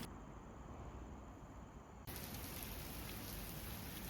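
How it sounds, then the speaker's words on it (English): Heavy rain falls steadily on a NEMO Aurora Highrise 6 tent with a taped rainfly, a dense hiss that suddenly grows louder and brighter midway. "I put the Aurora Highrise through more than 1 hour of heavy rain"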